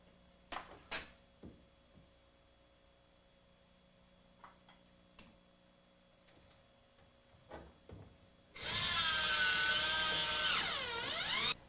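Bifold door sliding track being fastened into a head jamb: a few light taps and clicks of positioning, then a loud close power drill driving a screw with a whine that rises and falls for about three seconds.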